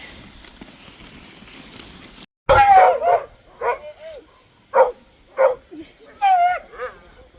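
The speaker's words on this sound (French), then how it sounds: "On est actuellement en train de faire du chien de traîneau." Sled dogs bark in sharp, repeated bursts during winter dog sledding in Quebec, loud and close, broken by short pauses after a quieter opening stretch.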